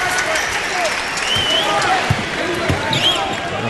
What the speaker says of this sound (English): he gets a nice hand from the crowd